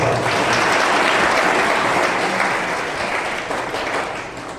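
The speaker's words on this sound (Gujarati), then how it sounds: "તાળી પાડો" An audience of students at a career seminar claps loudly and continuously, a dense steady applause that slowly fades toward the end.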